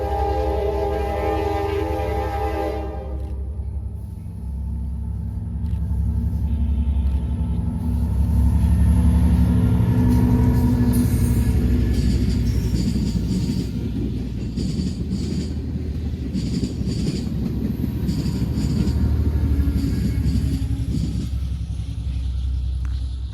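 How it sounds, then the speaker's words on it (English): An Amtrak passenger train heading south passes close by, its horn sounding loudly at first, then a heavy rumble and clatter of rolling wheels and cars that swells and holds steady for the rest of the clip. "Here's Amtrak 75 pulling down south through Elm."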